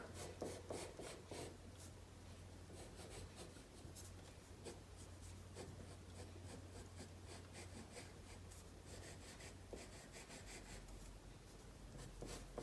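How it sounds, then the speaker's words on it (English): An 8B graphite pencil shades dark areas on paper while a mouth is being drawn. The strokes make a faint, close, steady scratching and rasping, with no talk. "I could even get in there with my 8B pencil to darken this to make sure it's really dark"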